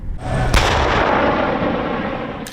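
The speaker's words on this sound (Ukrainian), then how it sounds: "Ворога у Бородянці вранці одразу ж накрила українська артилерія." Ukrainian artillery firing on enemy positions in Borodianka, a sharp blast followed by a long rolling roar that fills the clip, with another sharp report at the very end.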